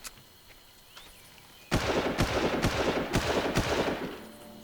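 After a quiet start, a sudden loud blast erupts in Far Cry, followed by a rapid series of sharp bangs and crackles, like explosions going off in a game.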